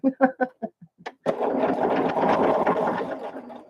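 A sewing machine runs the last seam of a quilt block in one sustained whirring burst, close and steady, after a few short clipped sounds at the start.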